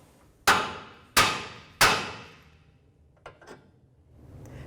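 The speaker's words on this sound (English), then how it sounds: "Now we're going to take a hammer, tap right here on that knuckle and let the joint fall out." Three sharp, evenly spaced hammer blows ring against the steering knuckle of a 2011–2014 Hyundai Sonata to free the outer tie rod joint, each decaying quickly, followed by a couple of faint metallic clinks.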